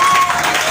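A church congregation applauds in praise, producing a loud, dense wash of clapping and crowd noise in a brief burst.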